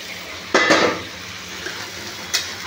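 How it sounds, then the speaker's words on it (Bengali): Marinated chicken stir-fried in mustard oil, a soft sizzle broken by two sharp clanks of a utensil against the pan and a lighter scrape, no talk. "দিয়ে একটু কষাতে থাকবো, একটু কষাবো এইভাবে"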